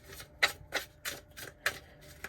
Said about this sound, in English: I'm going to do one more shuffle for you.